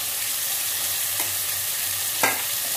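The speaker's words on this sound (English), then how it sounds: "We fry for some time." Chopped tomato, ginger and green chili fry in a pan for cauliflower masala, giving a loud, even sizzle broken by two short scraping stirs; no voices.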